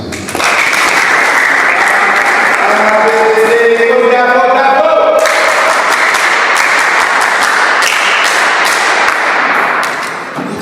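An audience applauds at a charity event by Maison Soleil Umuhoza donating supplies to needy children, dense sustained clapping filling the whole stretch, loud and close, with a brief tonal voice or whistle sweeping through midway.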